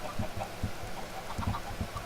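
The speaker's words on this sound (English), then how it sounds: "There's around 34 chickens in there." Chickens clucking in a farm coop in the survival video game Icarus, about thirty-four birds: a steady run of short, close clucks over a busy, noisy background.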